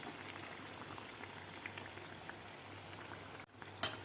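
Bread pakoda deep-frying in hot oil over medium gas, a steady soft bubbling sizzle running throughout, broken near the end by a brief dip and a sharp clink.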